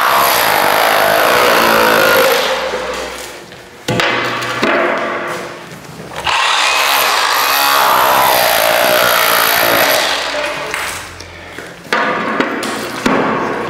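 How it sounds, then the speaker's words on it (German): A wall chaser mills through plaster during a kitchen gut renovation, a loud, harsh grinding roar that runs steadily and briefly cuts out or dips several times before spinning back up. "Hier gehe ich dann lieber einmal mit der Fräse drüber und habe den ganzen Putz nicht kaputt gemacht."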